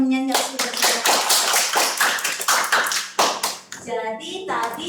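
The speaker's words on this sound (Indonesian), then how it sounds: "beri tepuk tangan dong untuk temennya yang sudah menjawab" A classroom of students claps for a classmate who answered, a loud run of distinct, fairly rhythmic claps close by, with a voice speaking before and after.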